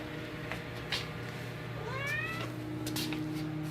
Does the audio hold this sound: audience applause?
no